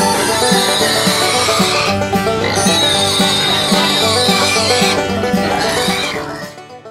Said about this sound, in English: Number 2, two noisy pigs.